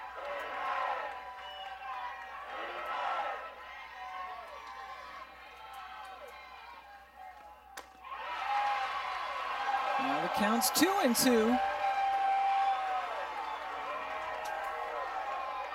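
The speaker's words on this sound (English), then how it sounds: "This crowd is getting into it. They do not like those strike calls down in the zone." A college softball crowd watching Oklahoma play UCF groans and shouts in reaction to strike calls, the noise swelling into a loud burst of cheering and whooping midway, under a commentator's voice.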